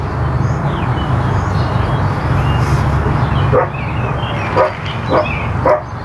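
Dogs in a house give a few short barks and yips toward the end, heard over a loud, steady rumbling background.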